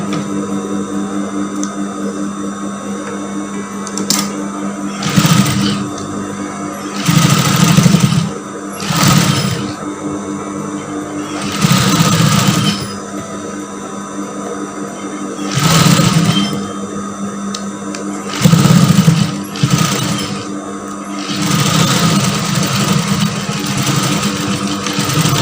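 A sewing machine stitches a batik blouse, its motor whirring in several loud bursts of a few seconds each, separated by quieter pauses over a steady background hum.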